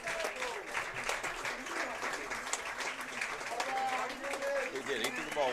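A baseball team applauding its pitcher at a St. Paul's game, heard as faint, distant patter of clapping with crowd noise beneath steady overlapping talk from nearby commentators.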